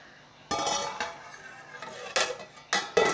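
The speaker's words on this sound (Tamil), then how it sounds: "இப்போ மறுபடியும் க்ளோஸ் பண்ணிக்கலாங்க லிட் போட்டு" A metal lid set back onto a cooking pan while dried anchovy thokku cooks, making several close, bright metallic clanks and scrapes in quick succession, with no talking.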